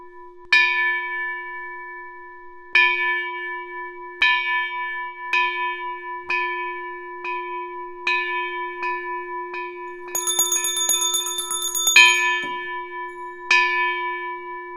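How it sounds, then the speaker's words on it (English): A Zen hand bell rings to signal the start of Dokusan and is answered by a set series of bells: clear, sustained metallic strikes spaced a second or two apart, with a brief rapid cluster partway through, ringing alone in a quiet room. "The Roshi will signal the start of Dokusan with the hand bell, to which the jisha will respond with a set series of bells."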